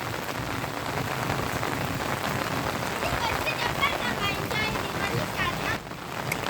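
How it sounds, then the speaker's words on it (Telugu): Heavy sudden downpour drumming steadily on surfaces nearby, a dense continuous hiss with no let-up, and voices faintly present beneath the rain. "ఇక్కడైతే ఈరోజు పెద్ద వర్షం పడుతుంది."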